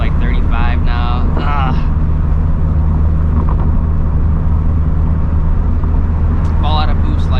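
A turbocharged Scion FR-S engine with a steady, loud drone and low rumble under acceleration, droning continuously beneath the voice of a person talking inside the car.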